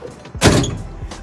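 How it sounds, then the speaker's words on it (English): A door shuts on a 1968 Ford Mustang, a single solid mechanical thud with a short rattle after it, close and fairly loud against a quiet background with no power assist. "when you shut the door,"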